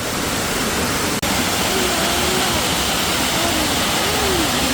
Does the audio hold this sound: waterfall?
yes